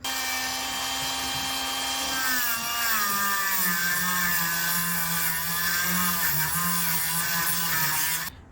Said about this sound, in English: So I'll take my little wire brush and clean these up.